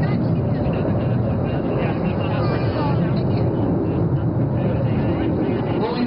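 A diamond formation of four jet aircraft flies overhead with afterburner, making a continuous, steady roar that holds at a loud level for the whole stretch. A voice appears to be present faintly over the noise.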